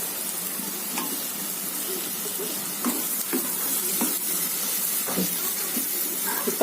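Dried ghee-fish karuvadu thokku sizzles and hisses steadily in a pan, with soft scraping stir strokes breaking through now and then; no one speaks.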